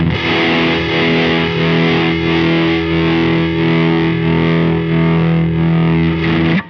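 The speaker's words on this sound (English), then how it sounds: "We have the Invader distortion, and we have the chorus pedal, and I set it to sort of act like a vibe sound." Electric guitar runs through an Invader distortion pedal and a chorus pedal set for a vibe-like sound, giving a thick, sustained, heavily processed tone with a gently wavering shimmer, loud and steady throughout.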